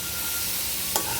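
Onion, green chilli and garlic fry in hot oil with a steady, close sizzling hiss, and a single brief stir or clink lands near the end.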